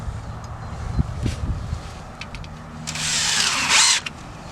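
A power drill drives a 1/4-inch screw into vinyl mobile-home skirting: a short, fairly close burst of whining motor near the end, preceded by light handling clatter.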